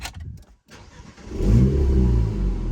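An Alpine A110S sports car engine cranks and fires up with a deep roar via push-button start, then settles into a strong, rumbling idle close by in comfort mode.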